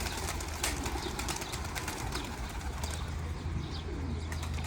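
Homing pigeons coo in a loft, with soft repeated coos, chirps and wing flaps over a steady background murmur.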